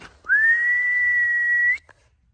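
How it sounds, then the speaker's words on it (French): A person whistles for a dog outdoors by a pasture, one long steady high note held for over a second, clear and close in a quiet setting. "Attendez, je vais siffler."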